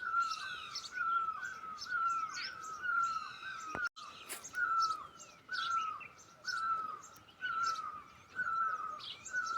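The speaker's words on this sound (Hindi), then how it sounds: "और देखो पक्षी एक से एक आवाज़ दे रहे हैं।" Birds call and sing outdoors in a clear-weather mountain valley with wheat fields, a steady repeated whistled note joined by varied chirps and trills, fairly close, with faint insect buzz beneath and no talk.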